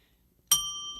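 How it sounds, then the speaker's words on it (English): A bell rings out with a bright ding that holds its tone and then decays. A second strike comes just before the end, loud and close in an otherwise quiet room. "Ring the bell."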